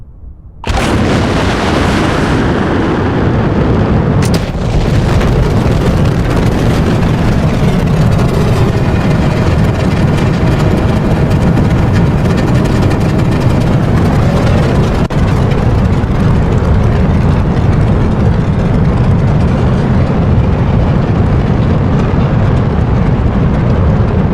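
Rocket engines fire in a space video game on a mission to Mars, a loud continuous low roar that starts abruptly and holds steady without letting up.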